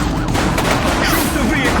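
Rapid gunfire in the police video game The Precinct, a steady dense barrage of shots with booms, loud and continuous throughout, with voices mixed in.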